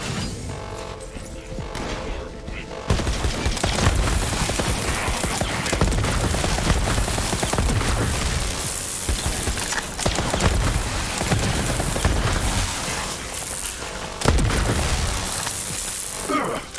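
Gunfire and explosions in the shooter video game Borderlands 3 form a dense, continuous barrage of rapid shots and booming blasts, loud and close, with a sharp burst near the end.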